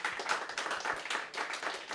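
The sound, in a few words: round of applause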